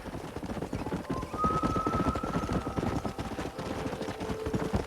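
Steady clip-clop of horse hooves on a trail in the Red Dead Redemption video game, continuous rhythmic trotting, fairly close and loud, with a faint tonal hum drifting over it.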